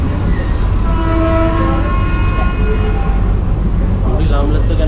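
A long passenger train runs between Badlapur and Ambernath, giving a loud continuous rolling rumble with tonal wheel squeals or horn-like notes near the middle, while someone talks over it.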